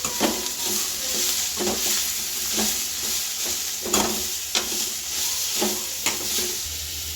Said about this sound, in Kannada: 1 ಇಂಚಷ್ಟು ಶುಂಠಿ ಎಲ್ಲ ಚೆನ್ನಾಗಿ ಹಾಕಿ ಹುರಿಬೇಕು